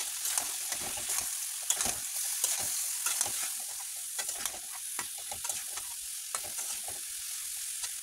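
Celery greens and leafy American greens go into a pan with potatoes and shrimp, giving a constant close hiss and sizzle broken by frequent stirring scrapes and rustles.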